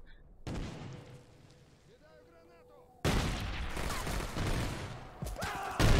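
Grenade blasts and gunfire in a competitive infantry video game tournament match, loud bursts of shooting and booms, with a sharp jump in intensity midway and excited commentary over the action.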